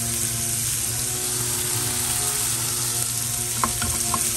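Garlic fries in a pan with a steady, close sizzle, broken near the end by a few clicks and scrapes of stirring, with no voices.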